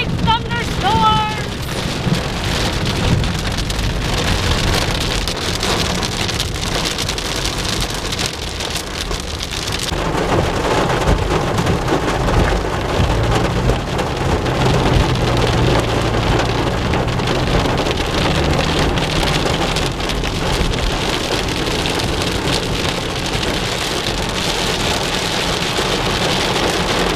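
Heavy rain pours steadily through a big thunderstorm, heard from near a window, with a dense continuous hiss, low rumbles of thunder rolling underneath, and occasional voices in the background.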